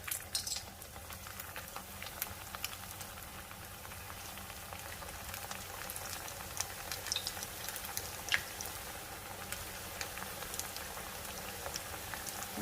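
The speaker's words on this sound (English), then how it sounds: "So I'm just going to give it a press and add it to my fry oil." A pressed potato mixture fries in hot oil at about 350 to 360 degrees Fahrenheit, giving a soft, steady bubbling sizzle with light popping crackles spread throughout, quiet and continuous, with no one talking.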